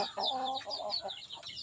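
A spoiled pet chicken clucks softly and close by in a quick run of chattering, slightly nasal notes, with a brief rising call near the end, fairly quiet overall.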